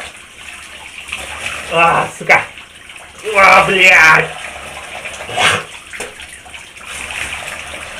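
Water splashes and runs from a tap as foam is rinsed off a face at a bathroom sink, in several loud bursts close by, with a voice speaking briefly between them.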